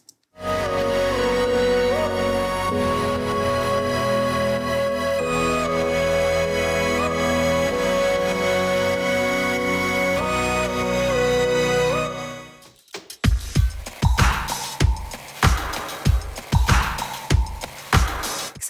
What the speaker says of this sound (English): All of the synths, because it's kind of a party, sound like this.